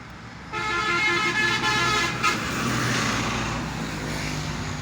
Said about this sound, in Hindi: इसलिए ट्रैफिक का शोर भी साथ साथ आपको सुनाई दे रहा होता है।